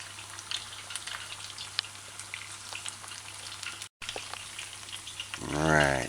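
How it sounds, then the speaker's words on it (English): Chicken parts and a wing cut in half fry in hot oil with a soft, steady crackle and scattered pops, close by, ending in a brief low hum of another sound. "So you just add it and just allow it to fry."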